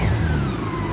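A Campagna T-Rex three-wheeler's engine revs under throttle, a steady close mechanical drone with a rising whine and no talk over it.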